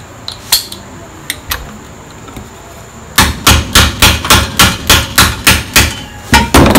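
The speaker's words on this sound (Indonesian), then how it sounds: "ketuk sikit biar dia betul-betul rata" Hammer tapping Yamaha 125ZR clutch parts flat in a motorcycle engine service: a few sharp scattered taps, then a steady run of about a dozen loud, evenly spaced metallic hammer blows, close up with no talking.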